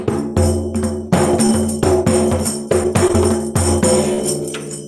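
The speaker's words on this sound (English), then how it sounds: "It's a tamburella." An Italian tamburella frame drum with jingling zills plays a loud, steady, driving rhythm, beats and metallic shimmer repeating continuously without pause.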